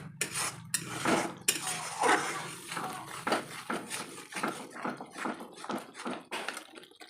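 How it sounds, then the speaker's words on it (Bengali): Mustard paste with turmeric, cumin powder and whole green chillies is stirred and sautéed in a pan for a Bengali steamed hilsa dish, with repeated scraping, clinking and knocking of a utensil against the metal, close and busy. "এখন ভালো করে সর্ষেটাকে কষিয়ে নিতে হবে"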